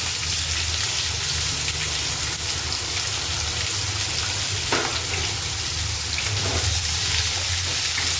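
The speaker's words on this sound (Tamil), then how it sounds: "நல்லா கோல்டன் ப்ரௌனாக ஃப்ரை பண்ணிடணும்." Two large sliced onions fry in hot oil for an egg curry, making a loud, continuous close-up sizzle like heavy rain, with a few brief stirring scrapes and no talking.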